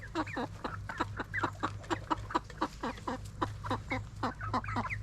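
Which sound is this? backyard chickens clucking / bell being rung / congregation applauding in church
backyard chickens clucking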